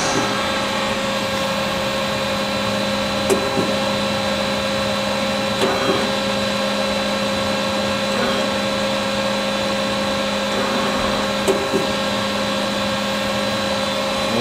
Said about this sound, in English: Rotary tools running at 3000 RPM.